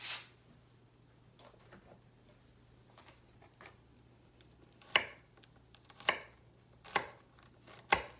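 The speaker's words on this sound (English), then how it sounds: "just mince up your garlic" Knife striking a cutting board as garlic is minced for soup, a few sharp, isolated chops spaced about a second apart, fairly close over a quiet kitchen background.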